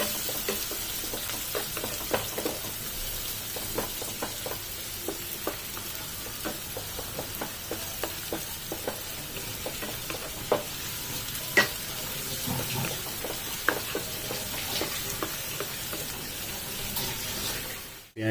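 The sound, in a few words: chopped onions frying in butter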